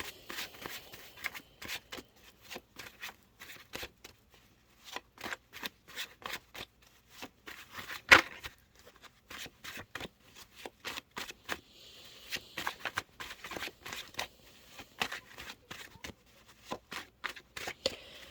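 Tarot cards being shuffled over and over in quick, crisp bursts of riffling and snapping, close by and quiet, with brief pauses between shuffles.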